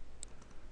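A few quiet keystrokes on a computer keyboard, one sharp click followed by two softer ones, close and isolated in a hushed room.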